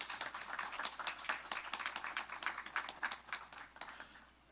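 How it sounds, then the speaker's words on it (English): Outdoor crowd applause for a police color guard at a Patriot Day remembrance ceremony, steady dense clapping from a moderately distant audience that fades away at the end, with no talking. "Can we give a nice round of applause for the Frederick Police Department Color Guard?"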